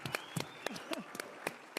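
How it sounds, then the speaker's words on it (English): Scattered hand claps from an audience at a speaking event, a handful of sharp, separated claps spread across a couple of seconds, faint and sparse rather than a full ovation. "I just think we should give them an applause"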